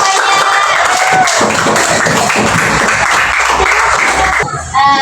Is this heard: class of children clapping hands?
yes